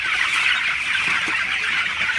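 Nineteen-day-old broiler chickens cluck and chatter continuously inside a chicken house, a dense, even flock murmur with no voices over it.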